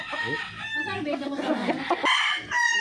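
Roosters crowing loudly and close, with hens clucking around them and a voice faintly underneath.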